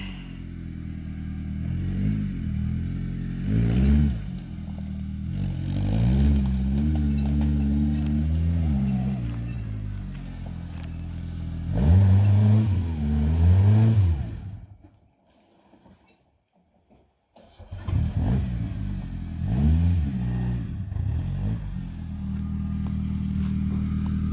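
A Nissan Patrol fitted with a Chev LS1 V8 driving off-road on an advanced track, a deep engine rumbling and rising in revs over several pushes, a brief near-silent gap, then more loud revving nearby.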